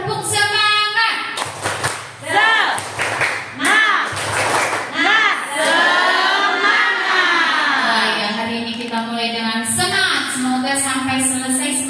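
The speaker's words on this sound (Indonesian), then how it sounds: "Tepuk semangat." Indonesian audience doing the rhythmic spirit clap, bursts of group clapping between spoken and chanted lines from voices, some sounding like children.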